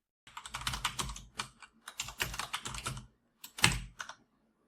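Fingers type a name on a computer keyboard in quick, close bursts of clicking keys separated by short pauses, ending with a single harder keystroke.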